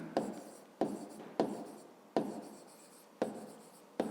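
A pen writes on paper in a fifth-grade math exercise, close and quiet: six short scratchy strokes, each starting with a sharp touch and trailing off, spaced unevenly with no talk.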